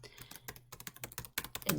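Rapid typing on a computer keyboard while a sheet name is entered in an Excel spreadsheet, a steady run of close, crisp key clicks with a brief pause and a louder burst near the end.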